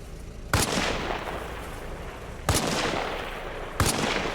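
Gunfire in the video game Arma Reforger while shooting out vehicle lights: three loud single shots, spaced unevenly, each followed by a long echoing tail, with no talking.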